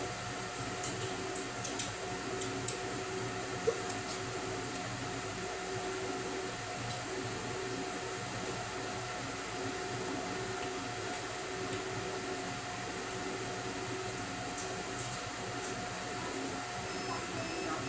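A Thunder Laser Bolt cutter works at 80% power and 4 mm per second, giving a quiet, steady hum with faint ticks and a fan-like whir that holds constant with no talk.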